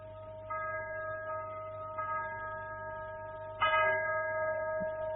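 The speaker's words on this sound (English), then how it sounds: "That chapel bell. Ding-a-ling-a-ling for the wedding." A chapel bell rings for a wedding, with a clear, sustained metallic tone and a fresh strike every second or so, the strongest near the end, its ring lingering over faint background hum.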